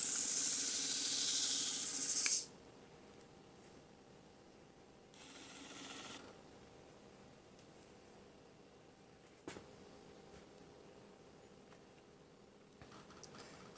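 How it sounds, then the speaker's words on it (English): A Dash DBD200GBWH04 electric butter sprayer gives a loud hissing spray for about two seconds from about six inches away, then a fainter second spray follows later amid quiet background hum and a small click. "I was just gonna spray on here to see what the spray kind of pattern looks like"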